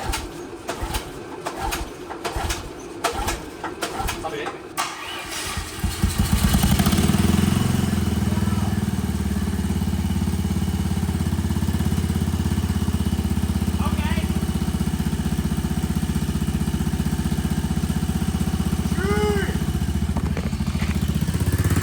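A gas engine fitted with a CVT on a Little Tikes Crazy Coupe toy car, first giving irregular pulling clatter and then catching into a loud, steady, continuous drone that holds to the end.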